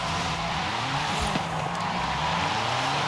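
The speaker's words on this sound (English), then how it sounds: "That 590 is plenty of power to get this little two-door to slide." A 2010 Renault Megane RS 250 two-door with an AWD drift tune drifts in second gear, its engine droning steadily near the listener while the tires slide and scrub across the surface, with no voices.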